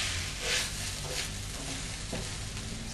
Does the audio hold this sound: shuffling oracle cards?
no